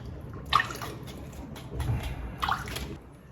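Water being poured off tilapia after washing for a Jamaican brown stew, two short splashing pours into a basin, near and moderately loud, with quiet trickling between.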